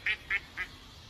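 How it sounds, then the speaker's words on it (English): A duck quacks three times in quick succession, short nasal calls spaced evenly and fading slightly, fairly faint against a quiet background. "The damn fucking duck started laughing when I said that"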